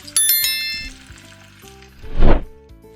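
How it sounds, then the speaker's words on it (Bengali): Coriander powder and spices fry in a pan for an egg curry, with a short loud sizzle surging up near the end after a few faint clinking, ringing tones; nobody talks. "1/3 টেবিল চামচ ধনে গুঁড়ো আর মশলা ধোয়া জল দিয়ে ভালোভাবে 3 থেকে 4 মিনিট ভাজবো।"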